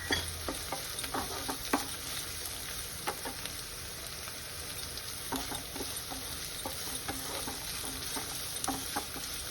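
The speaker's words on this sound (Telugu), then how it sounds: "పచ్చివాసన పోయేదాకా వేయించుకోవాలి" Carrot pieces and vegetables frying and being stirred in a pan for pasta, a steady close sizzle with scattered sharp clicks and scrapes of the spatula, no talking.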